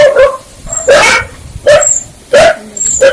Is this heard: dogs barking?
yes